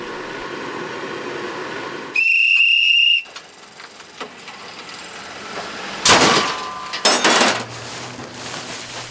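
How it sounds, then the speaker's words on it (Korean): A puffed rice popping machine at a rural Korean market: a sharp whistling release, then loud bursts of rattling, clattering noise, heard close amid market ambience. "시골 장터에 빠질 수 없는 뻥튀기"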